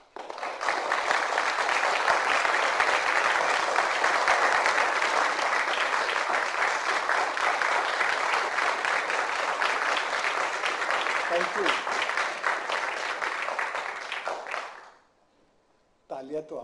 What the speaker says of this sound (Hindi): तालियां तो आपने खूब अच्छी बजाई